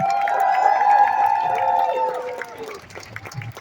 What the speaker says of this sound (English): Give another round of applause for Kirby